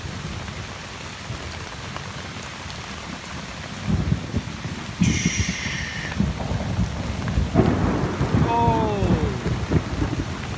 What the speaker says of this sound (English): Well, they were right about the thunderstorm.